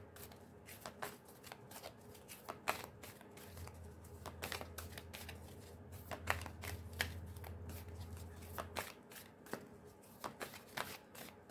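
Tarot cards shuffled by hand, a quiet, close series of quick riffling snaps and soft flutters in irregular bursts, with a low steady hum underneath partway through.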